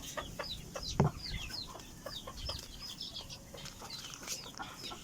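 Backyard gamecocks cluck and rustle, with a sharp wing-flap burst near the start, then scattered chirps and clucks continuing at moderate distance over a steady farmyard background.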